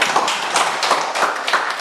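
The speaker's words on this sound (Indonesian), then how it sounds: "Tepuk tangan untuk Ada." Classmates clap for a student in a classroom, a short burst of loud, dense applause with quick repeated hand claps lasting a couple of seconds.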